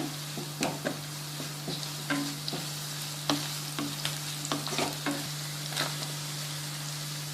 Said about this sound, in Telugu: ఇప్పుడు అల్లం వెల్లుల్లి పేస్ట్ యాడ్ చేసుకున్నాం